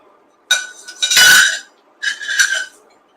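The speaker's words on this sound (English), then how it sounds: "So I'm going to clean up really quickly." Dishes and glassware clink and clatter during a quick kitchen cleanup for a Cinco de Mayo cocktail, two loud close bursts of ringing glass and crockery separated by a brief pause, no talking.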